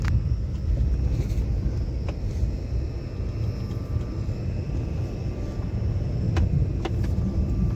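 A steady low car rumble with road noise throughout, a few sharp knocks and splashy bumps near the end as the car rolls over a rain-soaked road with water-filled potholes.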